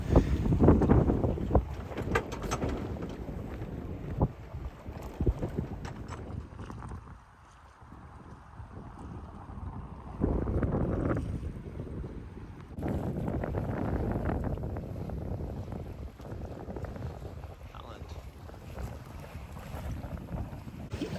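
Wind rushes steadily past a sailing boat on the Baltic near Kalmar, with water swishing along the hull and gusts buffeting the microphone; no one speaks.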